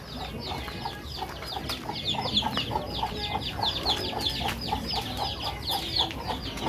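Chickens cluck steadily in a busy backyard flock on a rural Philippine farm, overlapping calls forming a continuous chatter over low background noise.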